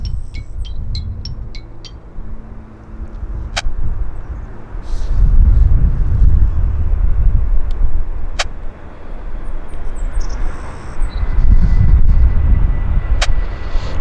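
A WestJet airliner arriving from Atlanta at Vancouver airport gives off a loud, low, broad roar that swells twice, heard from the ground outdoors without any talk.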